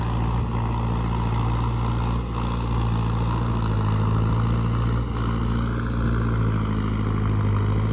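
Four-wheel-drive tractor puddling a flooded paddy field for rice planting, its engine a loud, steady low drone running continuously nearby without pause.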